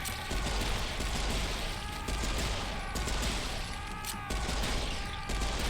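Continuous dense gunfire in Serious Sam 4, a loud, packed stream of rapid pistol shots with heavy low booms running throughout, roughly even in intensity.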